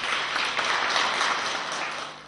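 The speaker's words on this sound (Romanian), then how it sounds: "Aplauze," A studio audience on a Romanian TV entertainment show applauds a guest, a dense, even roar of many hands clapping throughout, loud and close, tapering slightly toward the end with no speech over it.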